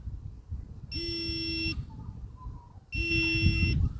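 A portable campsite motion sensor alarm triggers twice, each time a loud electronic buzzing tone lasting under a second, separated by a short quieter gap with faint background noise.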